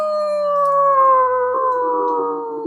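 A person imitates a wolf howl, one long sustained tone that slowly falls in pitch over a few seconds and dips briefly midway, fairly loud and close with no other talk.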